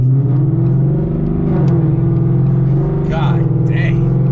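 Loud, steady low exhaust drone of a 2019 Mustang GT V8 running with a muffler delete, heard from inside the cabin, holding a constant rumble throughout with brief voice sounds over it near the end.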